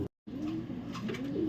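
A racing pigeon, just home from a derby, coos softly and repeatedly close by in a quiet coop, with no talking.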